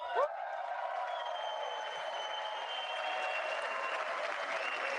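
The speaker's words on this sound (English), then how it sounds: "Now let's get another round of applause going." Members of Congress applaud in the House chamber at the 2026 State of the Union address, a dense and sustained ovation that holds steady for the whole stretch with no pauses, rising slightly near the end.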